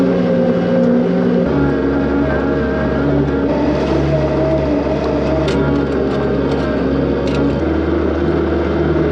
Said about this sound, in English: I wanted to start the skid steer loader early, that way my cab was all nice and warm.